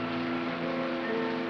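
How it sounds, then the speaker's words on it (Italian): Steady rain falling, a continuous even hiss with no gaps, heard under sustained music tones and no voices. "ma come piove."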